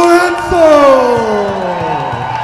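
Arena crowd at a cage fighting event in Denver, Colorado, whooping and cheering for a hometown fighter, a loud sustained roar with rising and falling shouts for about two and a half seconds.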